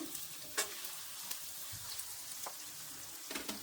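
A low, quiet sizzle of asafoetida frying in a pan, soft continuous crackle with a few spoon or stirring taps spaced apart, no talking.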